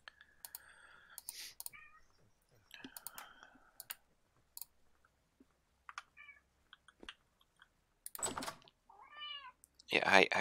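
A house cat meows a few times near a computer, with short, rising cries toward the end, while keyboard and mouse clicks and a person talking to the cat fill the gaps.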